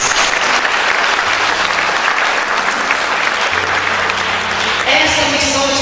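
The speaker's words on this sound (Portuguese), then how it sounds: "Vamos aplaudir a Deus por isso." A church congregation claps loudly and continuously, the dense applause holding steady throughout and shifting slightly near the end.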